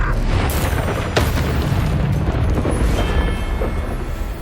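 A Confringo fire spell in Hogwarts Legacy detonates as a loud, dense burst of booming, crackling explosion noise that fills the whole stretch with broadband roar and a sharp hit partway through.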